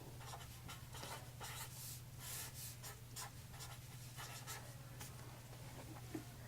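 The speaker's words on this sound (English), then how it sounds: "So first I'm going to write out the original equation." Pen or pencil writing out a math equation by hand for a graphing project, a soft continuous scratching in short strokes over a steady low hum, fairly faint and close, with no talk.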